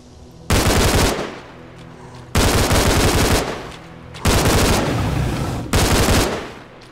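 Automatic gunfire from the video game S.T.A.L.K.E.R. Call of Pripyat, four loud, close sustained bursts of about a second each separated by short gaps, with a low ambient rumble between them.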